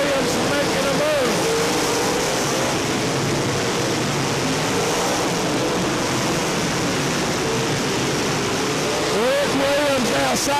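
Late model race cars roar around Crossville Raceway in a steady, dense engine drone with rising and falling pitch as cars pass, while an announcer talks over the racket throughout.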